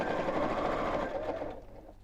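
Sewing machine running steadily as it stitches the curved seam of an oven glove, a continuous close whirring that slows and fades near the end.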